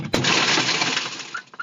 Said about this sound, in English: That's so when his partner smashes the window to get inside